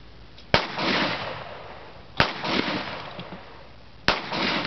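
Three sharp AR-15 rifle shots fired at a log outdoors, spaced about two seconds apart, each a loud close crack followed by a rolling echo.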